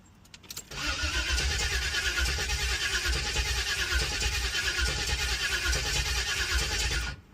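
An old boxy Chevy engine cranks briefly, then catches and runs at a loud, steady, rough idle for several seconds before cutting off abruptly, close to the vehicle.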